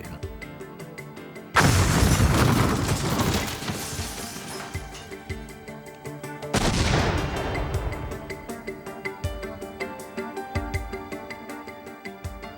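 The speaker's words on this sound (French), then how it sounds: "En un instant, le tuyau explose et propulse des fragments d'acier acérés et des clous dans toutes les directions à une vitesse meurtrière." A steel pipe bomb packed with nails detonates in two heavy blasts a few seconds apart, each a loud booming burst that fades into rumbling debris and ringing tails. No one speaks.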